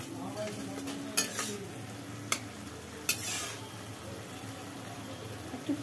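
Jaggery-sweetened desi chicken curry bubbling in a pan on a gas stove: a soft, quiet simmer and sizzle, broken by a few sharp clinks of a utensil against the pan.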